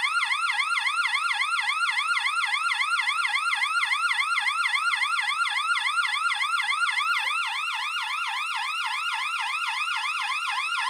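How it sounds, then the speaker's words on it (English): A Macromancie 220 volt AC flasher hooter fire alarm wails at over 100 dB in a fast, continuous rising sweep, repeating steadily without pause, harsh and close. "This is Macromancie 220 volt AC Flasher Hooter Combo."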